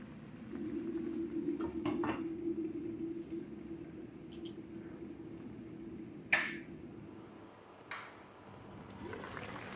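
A lid goes onto a pot of Hyderabadi chicken dum biryani with two sharp metallic clinks a second or so apart, fairly faint over a low, quiet kitchen hum.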